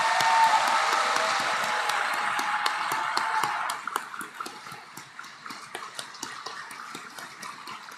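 Applause from the audience at a COP30 high-level climate action event, a dense roar of clapping that thins out midway into scattered individual claps.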